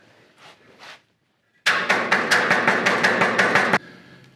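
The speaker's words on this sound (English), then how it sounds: "using a hammer to knock the flux off the welding rod" A quick run of about a dozen sharp metallic hammer taps knocking flux off a welding rod, in steady rhythm, loud and close, after a couple of softer knocks.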